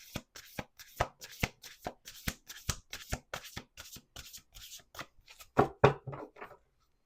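Oracle or tarot cards shuffled by hand in a run of crisp, evenly spaced slaps and flicks, close and clear, ending in a couple of louder riffles with no one speaking.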